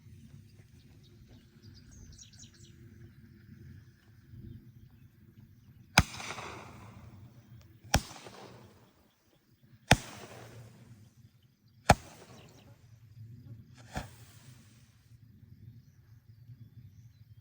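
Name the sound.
Sky Bacon Color Comet Tail firework launching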